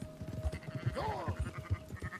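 Sheep bleating in the video game Red Dead Redemption 2, a wavering bleat rising over ongoing low in-game ambience and hoofbeat-like thumps, fairly close.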